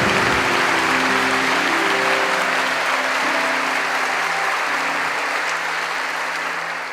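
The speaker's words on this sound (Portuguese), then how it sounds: "Vamos aplaudir o Senhor?" A church congregation claps loudly during a Catholic Mass homily. The applause is dense and sustained, then eases slightly toward the end, with no voices over it.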